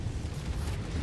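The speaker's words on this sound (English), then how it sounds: "Got ammo explosion." Ammo explosion in a mech combat video game, heard as a dense, sustained low rumbling boom with crackling noise on top, steady and fairly loud for about a second, no talk over it.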